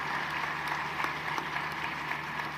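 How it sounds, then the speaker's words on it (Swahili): An audience at The Citizen Rising Woman event claps for the panelists, a continuous, even patter of many hands heard from a moderate distance, steady from start to finish with no speech on top. "Tunaomba tuwapigie makofi panelists wetu."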